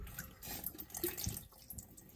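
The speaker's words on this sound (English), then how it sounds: "I have this bowl under here to catch the little bit of water that always comes out." Water draining from the clean-out port of a tankless water heater into a catch bowl, a small irregular trickle and splash heard close up and fairly quiet.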